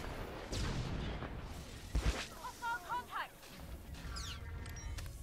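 Blaster shots go off in the video game Star Wars: The Old Republic as a few sharp bursts and short zapping chirps, fairly quiet, over a low hum of battle.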